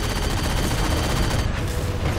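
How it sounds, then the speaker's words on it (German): Heavy cannon fire in the Halo 4 video game, a dense, continuous barrage of booming bursts in rapid succession, loud and unbroken throughout with no voices over it. "Die Kanone geht aber ordentlich ab hier."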